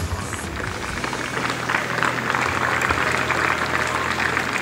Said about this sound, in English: for that encouraging round of applause